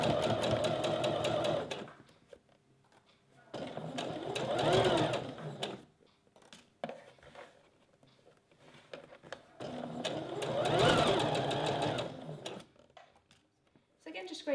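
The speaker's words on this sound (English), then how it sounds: "just sew the seam with a 1 cm seam allowance and a straight stitch" A sewing machine runs a straight seam on thin stretch mesh in two long bursts of fast, rhythmic stitching, stopping between them. Quieter pauses carry light handling sounds, with speech in the background.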